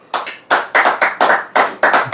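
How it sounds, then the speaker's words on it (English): A group clapping after tasting a 1956-style Jose Cuervo margarita: about nine sharp, evenly spaced hand claps in quick rhythm, close and loud, with no speech. "It gets a clap."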